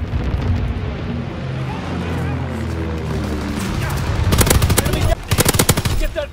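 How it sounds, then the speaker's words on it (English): Anti-aircraft guns fire in Call of Duty WWII multiplayer. A low, rolling rumble builds into loud, dense bursts of rapid gunfire near the end, with a brief pause between the final volleys. "Anti-aircraft bursts commenced."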